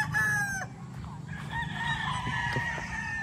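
Several chickens and roosters from a Mount Banahaw gamefowl line crow loudly and near, with long overlapping calls, short clucks and a faint crowd of birds in the background.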